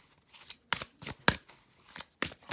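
Tarot cards shuffled by hand in several quick riffling bursts, each a sharp papery flutter, close and fairly loud with short pauses between, no talking.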